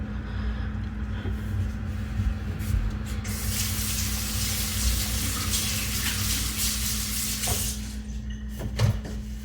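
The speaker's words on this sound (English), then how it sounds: "We're gonna rinse all of that milk, like buttermilk, out of there." Steady running water pours and sprays over homemade butter sitting in an ice bath as buttermilk is rinsed out, a continuous close hiss with a faint underlying hum and a small splash near the end.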